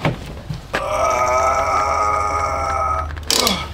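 A man strains and grunts with a long, sustained vocal effort while pushing a van by hand with the engine off, loud and close, starting after a short breath and ending with a sharp exhale.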